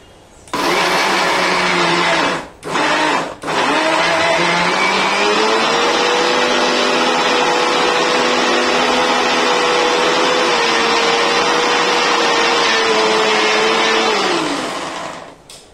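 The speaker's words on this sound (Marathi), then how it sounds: "मिक्सरला मी लावलंय. आता मिक्सरला हे दळून घेऊया." A kitchen mixer grinder whirs loudly as it grinds niger seeds for chutney, starting with a couple of brief pulses, then a sustained steady motor drone that winds down near the end.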